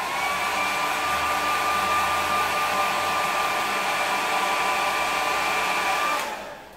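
A hair dryer blows steadily on a wet watercolour painting of a simple bridge, a loud close whir with a high whine that holds for about six seconds and then winds down as it is switched off.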